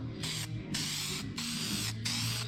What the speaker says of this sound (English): Let's give her a test spray, make sure we're good still.